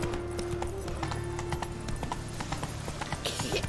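Roach the horse trots along in The Witcher 3: Wild Hunt, a steady rhythmic clip-clop of hooves close up over a background music drone, with a brief whinny-like flourish near the end.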